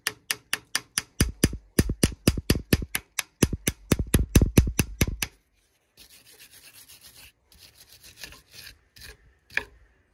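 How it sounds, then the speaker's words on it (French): An old bolt set against the axle of a Dewulf leek harvester is struck over and over to drive out a bearing, producing a rapid run of close metallic taps, followed by quieter scraping and a few scattered knocks. "L'astuce c'est de mettre un vieux boulon là et puis de taper dessus sur l'axe"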